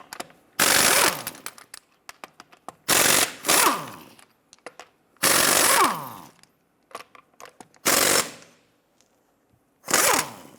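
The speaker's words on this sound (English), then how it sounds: "use your 22mm socket to loosen and remove the lug nuts" A 22mm socket on a power tool spins lug nuts loose and off a 2015-2020 Cadillac Escalade wheel, five loud buzzing bursts of rattling impact separated by quiet pauses and small metallic clinks, with no talk.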